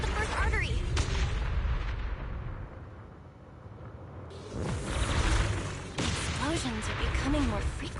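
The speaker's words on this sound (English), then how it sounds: "Explosions are becoming more frequent." Heavy booming explosions in Zenless Zone Zero go off one after another, with crackling debris and rumbling between them, loud and close.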